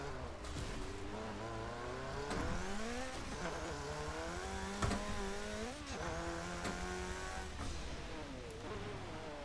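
A race car engine in Forza Motorsport 7 roars and revs on a track, pitch climbing and dropping through gear changes under hard braking, loud and continuous.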